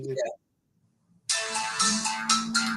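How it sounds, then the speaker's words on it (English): A phone ringtone for an incoming call plays loud and steady after a brief pause, following a short bit of talk at the start. "Oh, sorry, I got a phone call."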